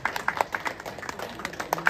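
An audience applauds at a studio opening ceremony, with a scattered burst of hand clapping from a modest crowd that carries steadily through the moment, fairly close and moderately loud.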